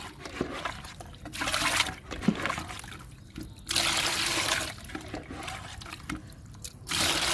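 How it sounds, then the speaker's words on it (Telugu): Liquid plant fertilizer is poured and mixed into a mug of water for a drooping daisy, giving a close, steady trickle and splash of liquid in several pulses, with no talk. "ఇప్పుడు లిక్విడ్ కలుపుకుందాము"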